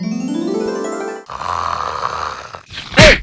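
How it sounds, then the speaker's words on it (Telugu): Loud exaggerated snoring, likely performed by a voice in a comedy skit: a rising drawn-out tone, then a rough rattling snore, ending in a sharp snort, all close and alone. "అది గురక గూడ్స్ రైలారా కదా?"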